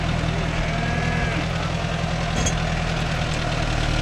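A Mahindra Novo 605 S two-wheel-drive tractor pulling a five-point cultivator through red soil, its diesel engine droning loud and steady with a low, even throb and no pauses.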